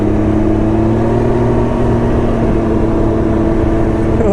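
A 2019 Can-Am Ryker 900 three-wheeler is underway, its engine a steady loud droning hum mixed with wind rush, constant and close throughout.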